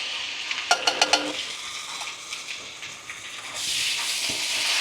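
Onion, garlic and corned beef sauté in a pot for sopas. A few quick metallic clinks of stirring open the sound, then a steady hiss of sizzling rises toward the end.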